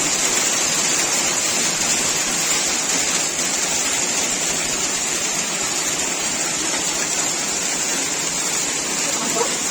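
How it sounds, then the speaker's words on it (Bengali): Dense, steady pattering roar of hail and rain pelting a surface, loud and continuous throughout with no break. "এগুলা শিলা বৃষ্টি এই এখন বৃষ্টি শুরু হয়েছে"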